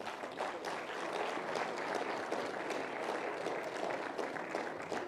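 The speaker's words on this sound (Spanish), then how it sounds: "Le damos unos fuertes aplausos." An audience at an evangelistic campaign applauds steadily, a dense, even wash of clapping that holds for several seconds without talk.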